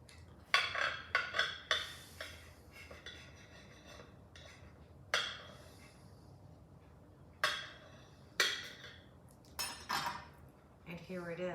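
A knife cutting a slice of homemade tomato basil bread, heard as sharp clinks and scrapes of metal against a board or plate, repeated in uneven bursts at close range.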